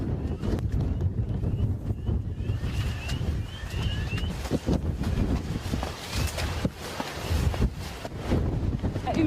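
Strong gusting wind buffets the microphone on a humid volcano trail during a Guadeloupe trail-running race, a loud continuous low roar with surging gusts throughout, and faint voices underneath.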